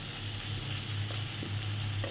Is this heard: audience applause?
no